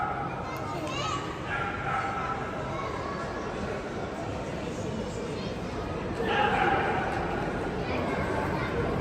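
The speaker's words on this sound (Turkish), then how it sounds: "Köpek girmiş AVM'nin içine ya. Ağlıyor herkesi korkuttu." Dog barks ring out inside a shopping mall over a steady wash of crowd chatter and children's voices, echoing in a large, busy space.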